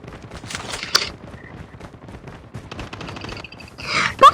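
Call of Duty gunfire on the Alcatraz map: scattered rattling shots and short bursts with brief pauses between, then a louder blast near the end, close up.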